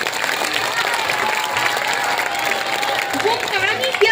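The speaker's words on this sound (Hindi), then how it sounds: "थोड़ी तालियों से मेरा हौसला अफजाई करिए।" An audience at a teachers' poetry recitation gives a steady round of applause, a dense wash of clapping heard fairly close, with some voices mixed in.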